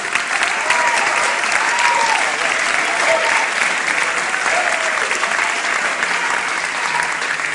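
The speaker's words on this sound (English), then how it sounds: "he deserves a round of applause" Full crowd applause rolls continuously through a meeting room in Inglewood, with many hands clapping at an even, sustained loudness from start to finish.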